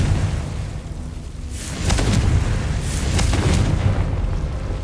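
Confringo blasting curse detonating in Hogwarts Legacy, a pair of deep booming bursts with crackling debris following, loud and close over a low rumbling game ambience, no talk.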